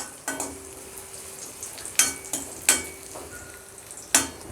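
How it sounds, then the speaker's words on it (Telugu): Raisins frying in a pan for a double ka meetha dessert: a low sizzle runs underneath, broken by several sharp clacks and scrapes of a spoon against the pan, spaced irregularly over a few seconds. "కొంచెం ఎండు ద్రాక్ష యాడ్ చేసుకోవాలి. ఇవి బాగా ఫ్రై చేసుకోవాలి."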